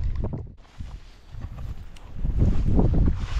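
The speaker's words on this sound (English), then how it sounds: "Ooh, but this wind is an issue." Wind buffets a microphone on a small fishing boat over shallow water, low rumbling gusts that dip briefly then surge louder, with faint splashy knocks underneath and no speech.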